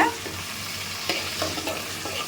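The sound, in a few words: stirring and frying garlic and onion in a pot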